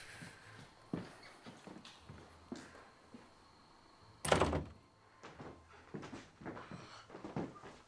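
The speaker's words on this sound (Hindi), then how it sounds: "बस दरवाजा बंद कर देना।" A door shuts once with a solid thud in a quiet room, set in a werewolf horror film, with faint shuffling footsteps and small knocks around it.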